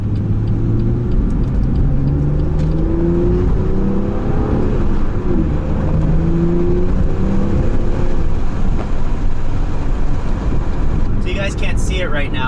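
A car's exhaust burbles and pops on downshifts while driving, with the engine note rising and falling in repeated sweeps under steady road and cabin noise.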